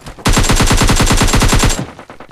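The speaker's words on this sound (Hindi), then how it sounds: "तब तक पीछे से फायरिंग आती है" Rapid automatic gunfire in the video game PUBG Lite, a loud sustained burst of closely spaced shots lasting about a second and a half, then stopping abruptly with a short tail.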